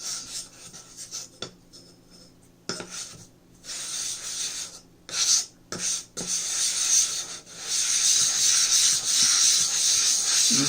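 Edge Pro Matrix diamond sharpening stone being dressed with loose abrasive, a steady gritty rubbing and scraping that comes in uneven strokes, broken by short pauses and a few sharp ticks, growing louder and continuous toward the end.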